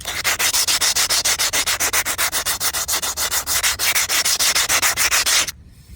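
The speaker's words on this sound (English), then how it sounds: "basically what you want to do is just sand the edges of it here" Loud, rapid back-and-forth sanding strokes rasp along the edges of repaired concrete pool coping, steady and close for several seconds before stopping abruptly.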